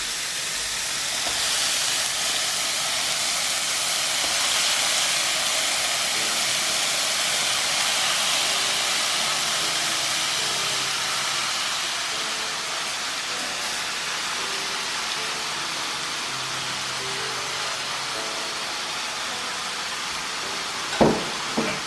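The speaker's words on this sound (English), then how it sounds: "we're going to add in the ground beef" Ground beef hitting a hot pan, a loud, even sizzling hiss that holds steady and slowly eases, with a couple of sharp clinks near the end.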